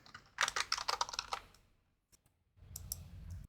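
Rapid bursts of keystrokes on a computer keyboard while an SQL insert statement is written, clattering for about a second, pausing, then a few isolated taps and a softer stretch of typing.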